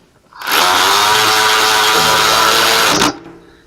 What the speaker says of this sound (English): now that one I didn't worry too much about running it down with the cordless